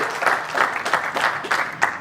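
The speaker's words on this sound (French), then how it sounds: "On acclame très fort les" Wedding guests at a Paris celebration clap in steady, rhythmic bursts, a close, lively round of applause with faint voices mixed in.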